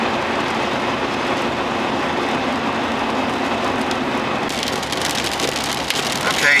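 Heavy rain pours steadily onto a car on a mountain road in western North Carolina, a dense, even hiss drumming on the roof and glass throughout, with a sharper spatter of drops building near the end.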